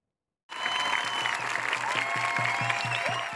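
University students protesting a rector's appointment at the campus entrance break into loud sustained applause, a dense crowd of clapping that starts abruptly and continues with faint rhythmic chanting beneath.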